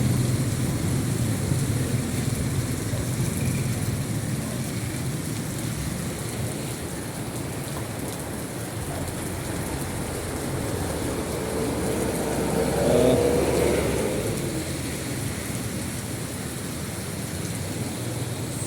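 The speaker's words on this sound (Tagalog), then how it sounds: "grabe lakas ng ulan mga idol" Heavy rain that has suddenly begun pours down in a steady, dense roar on surfaces nearby, continuous throughout with a slight swell near the end and faint low rumbles.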